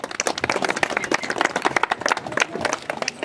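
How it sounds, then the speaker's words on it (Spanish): A community crowd in Mariatana claps to welcome the provincial mayor at a district entrance-arch inauguration, with many sharp, distinct hand claps close by in a lively, uneven patter. "Fuerte las palmas para recibirlo."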